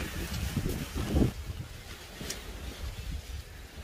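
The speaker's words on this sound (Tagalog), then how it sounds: "Sobrang lakas ng hangin." Strong cold wind blowing outdoors with a typhoon-like force, a steady rushing roar with gusty buffeting against the microphone, louder near the start and easing off slightly afterward.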